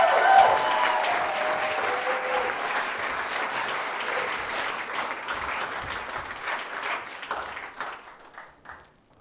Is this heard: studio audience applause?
yes